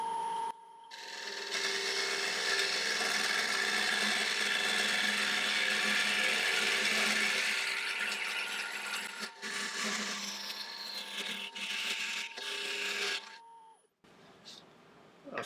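A standard scraper cutting into spinning wood on a lathe, a loud continuous rough whirring scrape that gradually eases and then stops, leaving the quieter motor hum.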